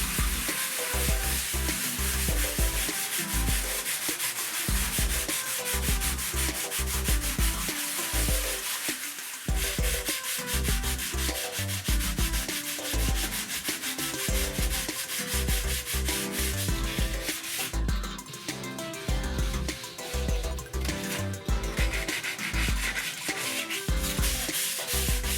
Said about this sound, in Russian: После высыхания шлифуем поверхность, убирая все, даже самые маленькие неровности.